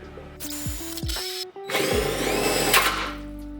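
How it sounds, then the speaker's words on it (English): A power drill drilling into plastic whirs in short bursts, its motor pitch dropping as it slows between runs, then a longer, rougher grinding stretch as it bites into the plastic. "This drill is gonna catch on fire in my hand."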